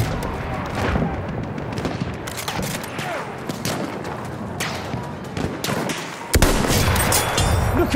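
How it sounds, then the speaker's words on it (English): Battlefield 1 machine gun fire, loud sustained bursts of rapid shots and heavy thumps from battlefield combat, continuing through the clip and growing louder near the end. "Look out! Machine gun!"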